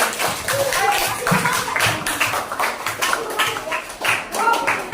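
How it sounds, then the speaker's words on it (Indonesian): Classroom students clapping for a classmate during an Islamic religious education lesson, a dense burst of many hands applauding steadily throughout, fairly loud and close, with voices mixed in. "Kasih tepuk tangan untuk kakak kamu"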